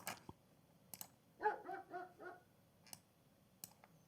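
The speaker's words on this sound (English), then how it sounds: "there we go, dog barking." A dog sound effect plays quietly: a short run of four or five yips and barks in quick succession, framed by faint clicks before and after, with no voices.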